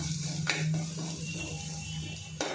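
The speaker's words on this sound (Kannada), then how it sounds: "ಇವಾಗ ಪೊಟ್ಯಾಟೊ ಮತ್ತು ಆನಿಯನ್ ಸ್ವಲ್ಪ ಫ್ರೈ ಆಗಲಿ" Potatoes and onion frying in a pan, a steady close sizzle running throughout with a couple of brief stirring clinks.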